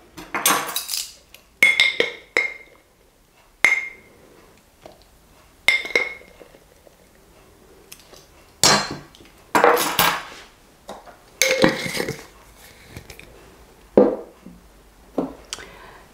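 Spoon and utensils clinking against a bowl while cocoa powder is added for German Lebkuchen, a series of sharp metallic taps and scrapes in separate bursts, close and fairly loud with quiet gaps between.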